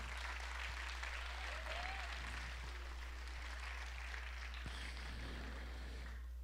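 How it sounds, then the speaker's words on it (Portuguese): Continuous applause from a church congregation, fairly faint and distant, with a low steady hum underneath and no speech. "Uma salva de palmas para o Senhor Jesus."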